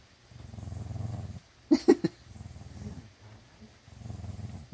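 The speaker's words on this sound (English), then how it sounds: "Why are you growling at it?" A Schweenie dog inspecting a luna moth gives low, rumbling growls in three drawn-out bursts, with a short, sharper vocal sound in the middle. The dog is close but the growls are quiet, and no one talks.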